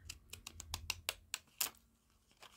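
Cheap children's scissors snipping through paper, a quick series of about nine crisp cuts close by, evenly paced and then slowing, with a faint low hum underneath.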